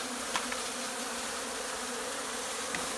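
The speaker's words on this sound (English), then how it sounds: "And a bunch of angries. and a bunch of angry bees." A steady, dense buzzing of many angry bees hums continuously, close and fairly loud, with a few faint clicks.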